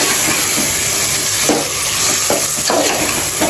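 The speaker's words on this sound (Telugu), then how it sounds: "అంతా కలిపి ఇట్లా బాగా కలపాలండి." A green chicken biryani mixture stirred and sizzling in a home kitchen pan, with a steady frying hiss throughout and several soft scraping strokes of the spoon, close and fairly loud, no talking.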